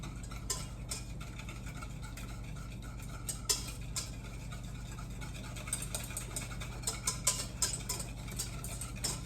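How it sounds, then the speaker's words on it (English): Sugar and an egg whisked together in a bowl, heard as light, quick ticking and clinking of the whisk against the bowl over a low steady hum, faint and close. "And we want to whisk that together."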